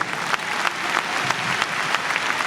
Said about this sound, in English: Please give a huge round of applause for all these wonderfully talented artists.